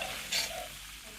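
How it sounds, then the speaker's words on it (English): All-purpose flour roasts in butter in a pan with a soft, steady sizzle and a brief stirring scrape, close but quiet and without speech. "now when you add the all-purpose flour, we start roasting it in butter"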